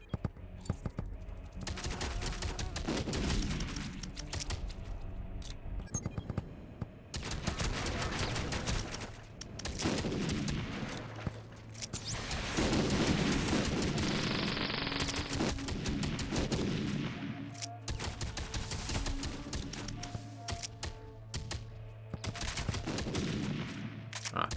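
Rapid bursts of rocket pods firing in the video game WarSphere, a dense, loud, continuous barrage with repeated volleys and layered explosions that barely let up.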